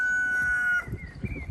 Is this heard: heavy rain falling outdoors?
no